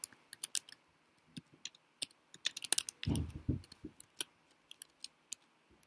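Code is typed on a computer keyboard in quick irregular bursts of crisp close key clicks, with one heavier thud near the middle and brief pauses between, and no talking.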